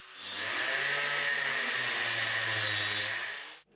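An angle grinder cuts the corners off a stack of paper election ballots, giving a loud, steady, continuous whine with a rough buzzing edge that runs for several seconds without a break and then stops abruptly.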